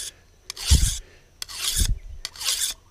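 A machete blade being sharpened in the field, with three separate rasping strokes spaced about a second apart, each a broad scraping sweep that rises and fades, close and clear with no talking.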